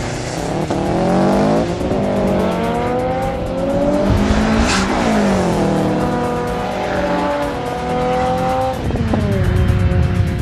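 Street race cars launch hard off the line, engines roaring and revving at high pitch with rising and falling gear sweeps, tires squealing, loud and close throughout with no talking.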